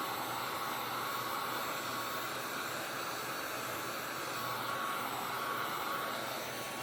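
A hair dryer blows air to dry a painting canvas, giving a steady, unbroken whooshing hiss at moderate volume. No one speaks over it.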